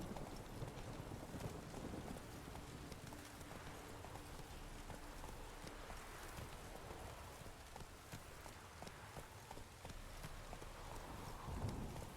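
Horse hooves clip-clopping at a steady run in The Witcher 3: Wild Hunt, a fairly faint rhythmic patter under rain and wind ambience with no talk.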